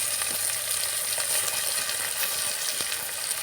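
Tomato pieces sizzle in a pan for an egg masala curry, giving a continuous, close, even frying hiss with faint scattered pops and no talking.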